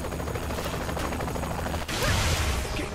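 Gunfire in the action video game Saints Row 3, a steady stream of shots under dense game noise, shifting to a louder, harsher burst near the end, with no voices.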